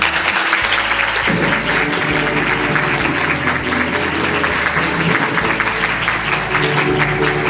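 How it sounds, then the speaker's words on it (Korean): Big round of audience applause at a Busan university expo launch ceremony, loud and continuous from many hands over a low steady hum, lasting several seconds. "모두 큰 박수 부탁드립니다"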